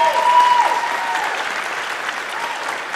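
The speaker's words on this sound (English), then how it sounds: "A round of applause for that" Audience applause at a university convocation for international studies, a steady, moderate wash of clapping from a crowd heard from a distance, with a brief voice at the start.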